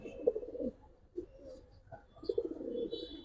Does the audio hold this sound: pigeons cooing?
yes